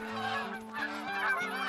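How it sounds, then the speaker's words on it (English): Geese in the hunting game theHunter: Call of the Wild honk repeatedly in overlapping calls from a flock at moderate distance, nasal and insistent, without talk. "Birds are noisy today."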